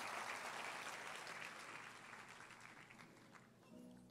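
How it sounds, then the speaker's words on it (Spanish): A church congregation claps and applauds together during an evangelical service, the broad clapping strongest at first and then gradually tapering, heard on its own without talk. "Denle un fuerte aplauso a Dios"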